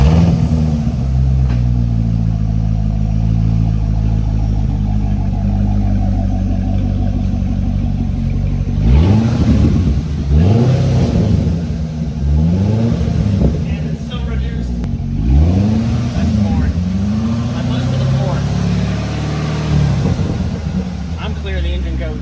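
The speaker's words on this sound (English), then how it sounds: "And then we'll give it a rev and y'all can hear how it sounds" A stock C6 Corvette V8 with its exhaust valves held open is revved repeatedly, several loud rising-and-falling sweeps in quick succession over a steady idle rumble, recorded close with people talking nearby.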